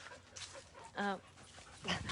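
Dogs at a home office in Costa Rica whimper and give a short bark, close by and fairly quiet, with a clear whining yelp at the centre and faint background sound around it.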